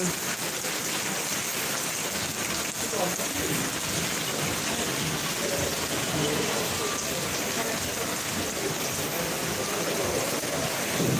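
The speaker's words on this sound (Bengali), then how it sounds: "এখন বৃষ্টির গতি কমে গেছে" Rain from Cyclone Remal falls steadily, a loud, unbroken broadband hiss of drops on surfaces filling the scene without pause.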